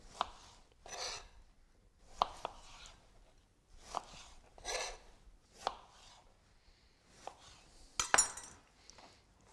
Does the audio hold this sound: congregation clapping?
no